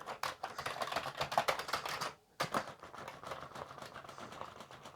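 Keys clatter steadily on a Commodore 64C keyboard in rapid, close typing bursts, with one brief pause partway through.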